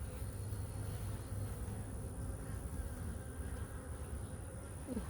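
Agitated honey bees buzzing around an open hive, a dense continuous hum close by, steady and moderately loud for several seconds.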